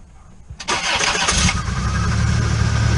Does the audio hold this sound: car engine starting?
yes